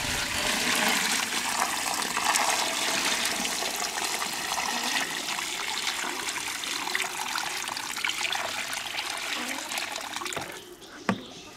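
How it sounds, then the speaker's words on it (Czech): Hot water at 60 degrees poured into a container of pork cuts for home curing before smoking, a steady rushing, splashing pour filling most of the clip, then trailing off with a couple of small knocks. "Tak, dal jsem tam vodu ohřátou na 60 stupňů."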